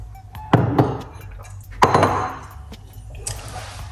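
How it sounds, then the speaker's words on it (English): A lid is fitted onto a container of homemade beetroot juice, giving two sharp close knocks a little over a second apart, then a faint clink, with no talk. "Put on that lid."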